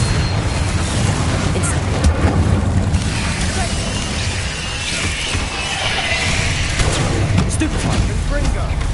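Confringo blasting spells in Hogwarts Legacy rumble as dense, continuous booming explosions layered with a roaring, wind-like wash, loud and close throughout, with spoken spell names over the din.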